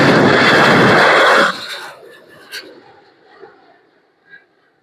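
An airplane taking off at Alicante airport gives a loud, close engine roar that cuts away after about a second and a half, leaving faint distant rumble and a few soft knocks.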